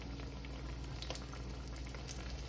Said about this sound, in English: Let them fry, then I'm gonna glaze them.